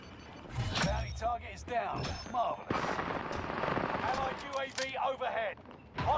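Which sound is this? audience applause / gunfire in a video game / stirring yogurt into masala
gunfire in a video game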